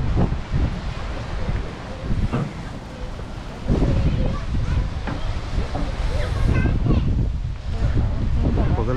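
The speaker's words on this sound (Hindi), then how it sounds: "पैरों के अंदर में भाई हवा चल रही है खतरनाक वाली" Strong cold wind by the sea at Unzen in Nagasaki, buffeting the microphone in loud gusty rumbles and hiss throughout, with someone talking over it.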